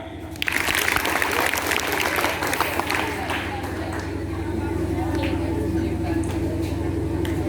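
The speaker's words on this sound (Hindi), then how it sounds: "तो एक ताली।" Students at a government high school gathering clap together in a loud burst that settles into steady clapping, with a low hum and voices underneath.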